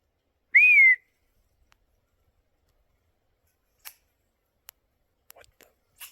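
A bird gives one clear, bright whistle, a short rising-and-falling note, followed by silence broken by a few faint clicks and taps.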